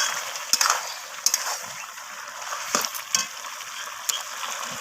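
Spices with cumin powder stir-fried in a pan, a bright sizzle broken by sharp intermittent scrapes and knocks of a spatula, close up and without speech.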